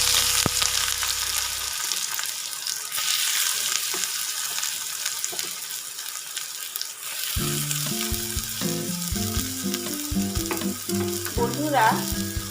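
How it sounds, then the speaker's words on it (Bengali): Eggplant slices fry in oil for neem begun bhaja, a loud, continuous sizzle crackling close up throughout, with a melodic music track entering in the second half. "এবার কড়া করে বেগুনগুলো ভেজে নেব"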